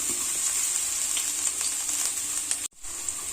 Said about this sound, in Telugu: క్యాబేజ్, వెజిటేబుల్స్ అన్నీ వేయించుకుందాం.